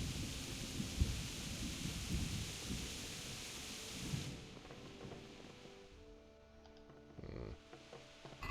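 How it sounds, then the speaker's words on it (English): Heavy rain and thunder in the medieval video game Kingdom Come: Deliverance: a dense downpour hiss with deep rolling rumbles that fade out midway, leaving quieter rain and a few low thuds. "It's so believably bucketing down rain, and the thunder is so thunderous."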